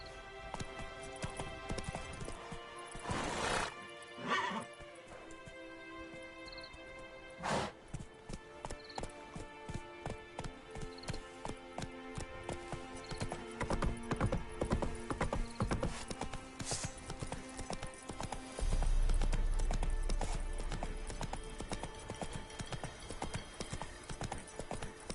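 Roach, a horse in The Witcher game, gallops with steady, loud clip-clop hoofbeats throughout, joined by game music and a few sharp louder impacts, with a brief rumble near the end.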